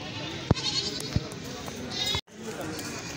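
A goat bleats at a Lahore livestock market, a doe sold with her four kids, giving a couple of short, loud calls amid crowd noise and nearby talking.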